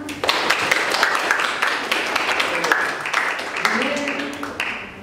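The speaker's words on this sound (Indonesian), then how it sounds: "Tepuk tangannya." Students in a classroom applaud during a history lesson, with dense rapid hand claps that run steadily for several seconds, close by and fairly loud, then taper off as a voice begins to speak.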